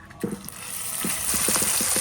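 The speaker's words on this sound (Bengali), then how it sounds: "এখন বেগুন ভাজা তেলের মধ্যে দিয়ে দিতে আছি বাড়া মশলাটি।" Ground spice paste hitting the hot oil left over from frying eggplant, a steady close sizzle that grows louder after a brief stirring scrape at the start, with no talking.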